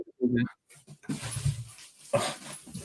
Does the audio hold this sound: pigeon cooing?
no